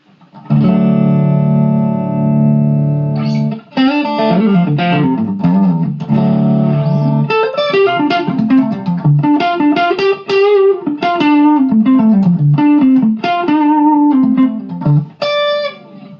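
An electric guitar on its first pickup through a Line 6 Spider V 240-watt amp with a slightly crunchy tone plays sustained chords, then a quick run of single-note lines, loud and close.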